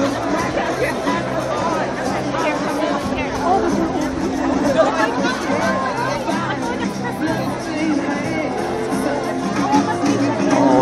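A rally crowd in Las Cruces, New Mexico roars and cheers as Mike Pence arrives, a dense, steady wash of voices and shouting that holds for about ten seconds.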